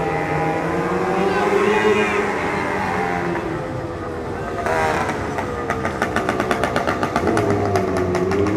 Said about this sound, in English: Got the motorcycles out tonight.